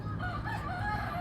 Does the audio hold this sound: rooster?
yes